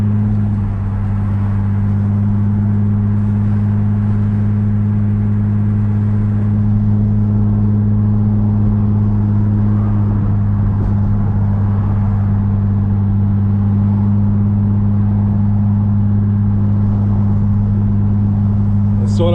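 An Infiniti G35 or Nissan 350Z with a faulty transmission control module idles and revs in a steady, loud engine drone, with a strong low hum holding almost unchanged throughout and only slight swells.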